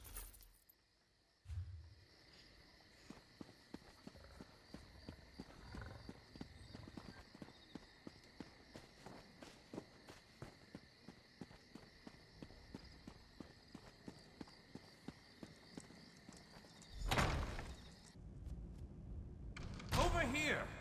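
Horse hooves clip-clopping in the Elder Scrolls Online video game, a steady walking rhythm of evenly spaced clops, close and clear, ending with a louder rustling burst.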